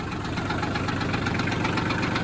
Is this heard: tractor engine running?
yes